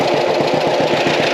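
A John Deere tractor engine running close by, a loud steady chugging with a fast even rhythmic pulse and no voices.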